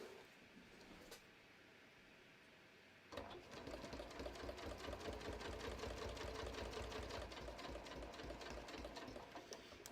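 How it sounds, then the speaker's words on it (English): A sewing machine runs a straight stitch around the edge of a handmade paper holiday card, starting after a quiet pause into a steady rapid needle clatter, close and fairly soft, with no talk. "let's just start with the straight stitch. And I'm just going to stitch all the way around the edge of the card"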